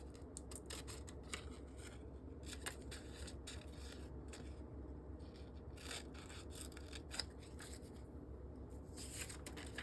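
Scissors snip through a jacket pattern toward the pivot point, a quick run of many small crisp cuts, close and faint.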